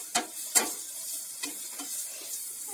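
Turmeric, cumin, chilli and coriander powders being stirred in a pan for an egg curry, with a few soft scraping strokes over a faint low sizzle, quiet and close.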